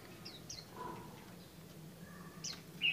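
A caged Vietnamese white-eye songbird gives a few short, high, faint chirps spaced across a quiet background, with one slightly louder call at the end.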